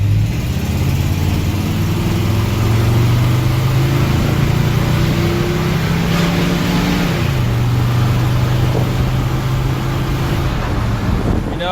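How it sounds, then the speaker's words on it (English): Strong, continuous engine roar from a 1975 Ford F100 pickup with a 360 V8 as it accelerates through the gears, the revs climbing, dropping at a shift and building again, loud and close. "It's nothing ridiculous, but it gets up and goes. It's very strong motor."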